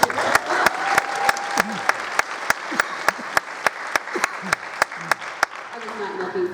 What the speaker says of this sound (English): I was not looking for applause